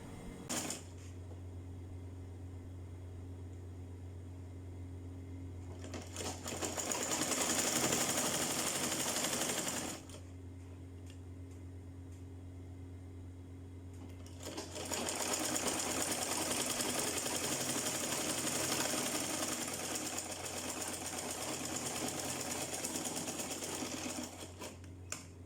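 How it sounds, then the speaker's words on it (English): Sewing machine running a straight stitch through crinoline in two long continuous bursts, separated by a short pause, steady and close with no voices. "Then I'm going to sew a straight stitch."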